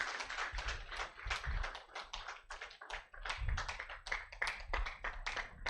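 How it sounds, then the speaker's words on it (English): An audience at a student orientation day at an institute gives applause to welcome the vice chancellor to the stage, with irregular, fairly faint clapping sounding thin and tappy from a modest crowd, no voices over it. "let's give him an applause"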